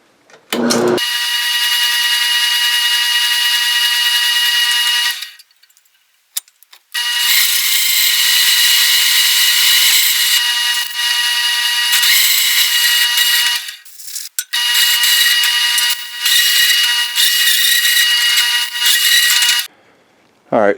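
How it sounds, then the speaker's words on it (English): A carbide-tooth hole saw bores through a mild steel base plate, a loud, close, piercing metallic whine that holds steady for long stretches, broken by a few brief pauses as the cut stops and restarts. "this is a carbide tooth hole saw. This is just mild steel, this base plate."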